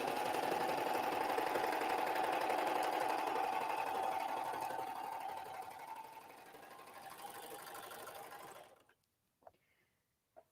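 A Baby Lock Accolade serger-coverstitch machine runs a chain stitch in a steady, fast, buzzing hum for about eight seconds before stopping, followed by a couple of faint clicks.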